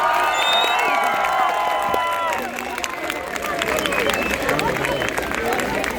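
A crowd in Gyumri welcoming French President Macron with loud cheering, shouting and applause, dense and close throughout, with voices mixed in.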